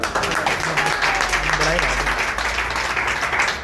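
Audience at a gathering applauding loudly, a continuous wash of many hands clapping at close range, with a voice talking over it partway through.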